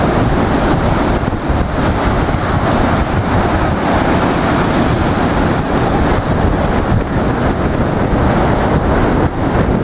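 Seawater surges and splashes up against the seafront at Blackpool on a chilly morning, a loud, continuous rushing wash with heavy wind buffeting the microphone throughout.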